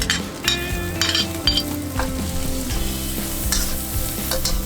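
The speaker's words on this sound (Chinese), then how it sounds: "现在转大火，倒入大蒜和红椒碎" Garlic and chopped red chili hit a hot wok over high heat with minced meat, crackling in a loud, continuous sizzle under repeated spatula scrapes and clinks.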